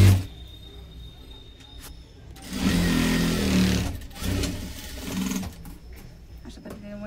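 An overlock machine runs a half-inch underlock stitch along a blouse seam in two short bursts of close mechanical whirring, separated by quieter gaps where a voice talks.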